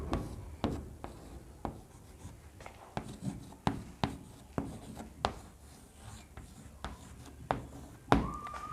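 A name handwritten with pen on paper for a nursery English lesson, a run of short scratchy strokes in a regular rhythm, close and quiet, with a brief tone near the end.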